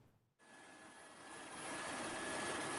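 Steady, loud rotor and engine roar of a helicopter in flight on a survey of encroached forest reserve land in Nakhon Si Thammarat, Thailand. The noise rises after a brief quieter moment and then holds constant with no speech.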